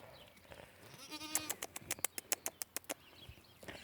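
A goat bleats close by in a paddock, a quavering cry followed by a rapid string of sharp stuttering bleats, with faint background noise.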